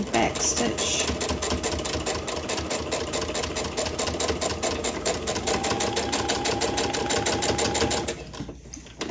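A sewing machine stitches straight across a tote bag strap with a steady, fast, even rattle that runs close and loud for about eight seconds, then stops abruptly.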